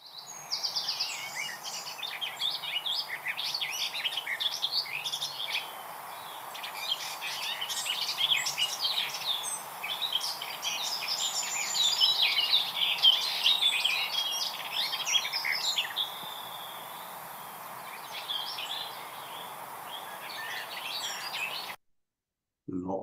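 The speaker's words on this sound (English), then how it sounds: "a lot longer, just that continuous stream of consciousness that's coming out from the garden warbler there" A garden warbler sings a long, continuous stream of rapid warbling notes for around twenty seconds, steady and fairly close over soft background noise. The song cuts off abruptly near the end.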